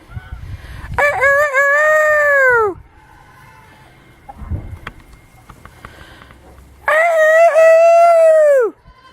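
Two loud, drawn-out rooster crows sound close by on a farm, with quieter clucking and scattered fowl noises in the pause between them, and no talking.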